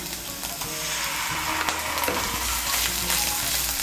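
A teaspoon of garlic paste fries in oil over reddened onion paste, a steady close sizzle with scraping stirs as it is mixed, no voices.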